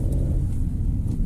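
A car engine rumbles low and steady as it accelerates during a driving lesson, a close, muffled hum from inside the cabin with no talk.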